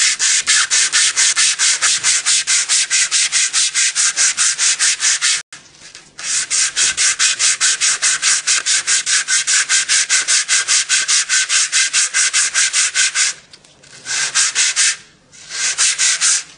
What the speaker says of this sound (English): We're going to scrape a new surface here, preparing for the seal.